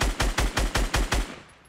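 Automatic gunfire in the Fortnite video game, with about seven rapid evenly spaced shots in a quick burst, loud and close, then fading out.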